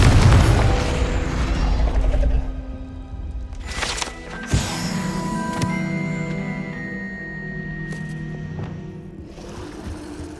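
In the Hogwarts Legacy video game, a Confringo spell bursts with a deep boom and a sharp crack partway through, trailing off into ringing tones and low rumble, with no voices.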